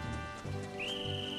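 A short rising whistle tone from the video game Ocarina of Time, steady and bright, played against a looping game background with clip-clopping and ambient effects.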